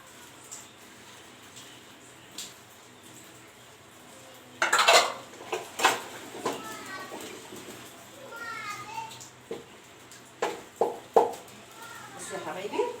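Dishes and cutlery clink and clatter in short, irregular bursts close by, with a voice talking over the clatter.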